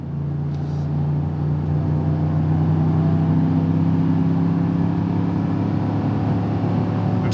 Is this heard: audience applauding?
no